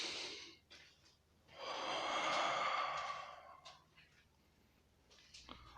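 One long, deep inhaled breath, close and breathy, swelling then easing off, framed by softer shorter breaths before and after.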